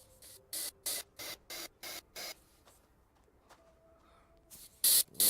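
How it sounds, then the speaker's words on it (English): In the video game Astroneer, a full, loud oxygen tank gives a quick series of sharp hissing bursts in an even rhythm, then pauses before two more hisses sound near the end. "Shut up, you loud oxygen tank."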